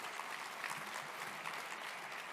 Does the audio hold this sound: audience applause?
yes